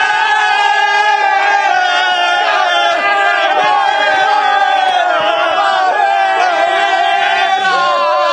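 Palmeiras football fans cheer and chant as a dense crowd before a match, a loud, continuous roar of many voices singing together without pause.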